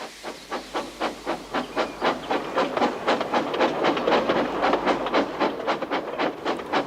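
James, a steam engine pulling a train, chuffs with steady, rhythmic bursts of hissing steam, loud and close, building slightly in pace as it goes.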